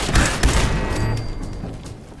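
A turret firing in Fallout 4, with a rapid burst of punchy gunshots early on that gives way to a fading, rumbling echo, loud and close.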